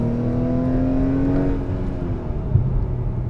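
Engine and road noise from a 2021 Acura TLX A-Spec cruising in normal mode fills the cabin as a steady, moderately loud drone with a faint tonal whine, and no talking.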